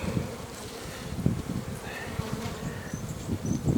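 Honeybees buzz steadily and close up around a heavy frame lifted from a hive in spring, a dense continuous hum with some individual bees droning nearer and farther, no speech.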